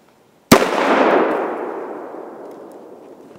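A single loud gunshot from a .410 pistol fired at a full, skunked beer can, a sharp blast followed by a long fading ring that decays over about three seconds.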